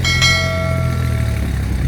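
A notification bell rings out with a bright metallic strike and lingers in a long, slowly fading ringing tone over a steady low background hum.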